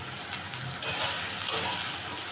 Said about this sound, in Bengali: সেই পেস্টটা আমি এটার মধ্যে এখন দিয়ে দিলাম। দিয়ে আবার আমি এটাকে কষাবো